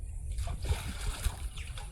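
Fish released into a small pond splash and slosh in the water, with two sharper splashes standing out against a continuous low wet churning, close by.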